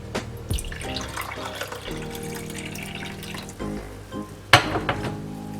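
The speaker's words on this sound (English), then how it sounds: "Bring the cup that you used, this cup, and put warm water." Warm tap water runs steadily into a cup in a home kitchen while pizza dough is prepared, a continuous close splashing flow with shifting pitch as the cup fills, and a clink near the end.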